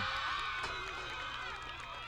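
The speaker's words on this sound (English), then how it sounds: "And the crowd warms." Football crowd cheering after Bath scores, a loud, sustained roar of many voices that stays steady throughout, with a commentator talking over it.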